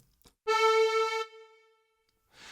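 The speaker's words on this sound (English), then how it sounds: "the sound that you hear sounds a little bit more like an accordion." A single sustained reedy note from a Casio Casiotone CT-S1 keyboard on an accordion-like tone, held for under a second and then fading out, alone and fairly close.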